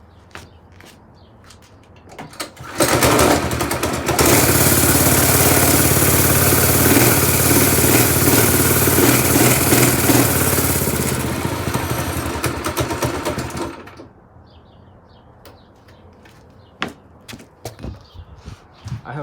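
A go-kart engine is pulled into life, then runs loud and steady for about ten seconds with a rough, buzzy tone, before cutting back to quiet background with a few faint knocks.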